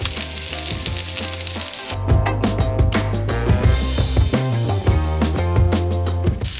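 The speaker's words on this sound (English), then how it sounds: "a little bit more sunflower oil, and then we can put on our mushrooms" Mushrooms sizzle in sunflower oil in a hot pan, a steady frying hiss that swells louder after a couple of seconds, with crackles and the clicks of stirring over it.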